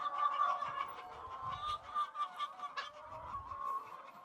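A flock of free-range laying hens, several thousand birds in a layer operation, clucking and squawking in a continuous dense chorus with occasional sharper calls standing out near and far.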